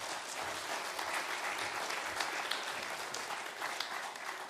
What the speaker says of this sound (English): Could we give him a big round of applause, please?